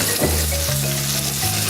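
A T-bone steak sizzles loudly in a hot pan, a dense, close crackling hiss throughout a brief moment with no speech.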